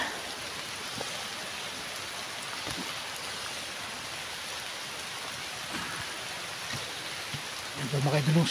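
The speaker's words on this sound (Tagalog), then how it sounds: "Ang lakas po ng ulan dito mga idol." Heavy rain pouring on a mountainside, steady broadband hiss of drops hitting surfaces, fairly close, with a brief louder burst and a faint voice near the end.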